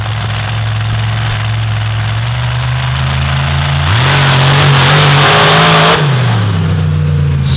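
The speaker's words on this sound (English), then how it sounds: "now under the ownership of Mark Shaver with a 572 all-aluminum Keith Black Hemi" A drag racing car with a 572 all-aluminum Keith Black Hemi engine that has been having problems revs loudly at a strip, its steady idle stepping up into rising, surging revs before dropping back, with no talk over it.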